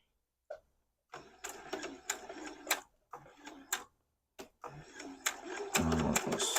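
Domestic sewing machine stitching quilt block pieces in short bursts with pauses between, the motor whirring and needle ticking close by, with a longer steady run at the end.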